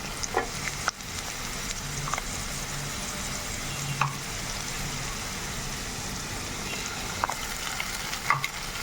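Ginger garlic paste sizzles and fries in a pan with steady stirring, a continuous crackling hiss broken by occasional scrapes of the spoon, close and moderately loud with no voices.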